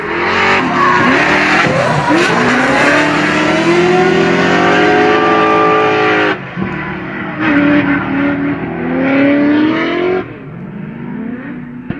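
Fox Spec 10,000D RTR drift car at a large track, COTA, howling loudly as it slides, tires squealing while the engine revs rise and fall through long drifts, easing off near the end.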